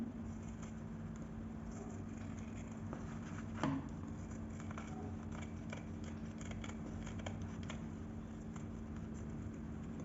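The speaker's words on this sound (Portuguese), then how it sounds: "Agora, você vai cortar a sobra aqui do forro também." Scissors trimming excess lining fabric on a handmade bag, faint quiet snips under a steady low background hum, with one slightly louder cut partway through.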